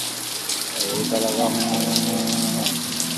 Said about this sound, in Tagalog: ang ulan dito sa Dasmariñas, Cavite